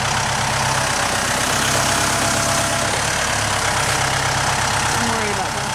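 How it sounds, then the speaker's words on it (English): A tractor engine runs steadily at a low idle-like rumble while hauling heavy green fir lumber at a sawmill, a continuous close drone with voices talking over it. "that tractor makes short work out of it"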